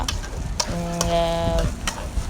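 Rice being fried and stirred in a pot for tehari gives a soft sizzle with a few sharp utensil knocks and a brief tonal scraping squeal, near and moderately loud.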